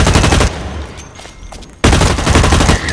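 Rapid gunfire from the first-person shooter Blacklight Retribution, dense and loud bursts at the start and again from about the two-second mark, with a quieter stretch in between.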